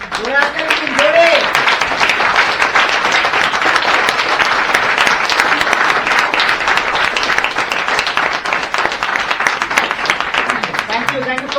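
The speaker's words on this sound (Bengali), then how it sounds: "হ্যাঁ, জোরে হাততালি দিন" Loud, sustained applause from an audience at a gut health talk, dense clapping filling the whole stretch at a steady level with no break.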